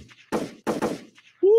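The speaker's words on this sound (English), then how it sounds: "Woo, the sweet sound of gunshots." A gunshot sound effect played during a podcast gives two sharp, loud bangs in quick succession, followed by a short rising tone.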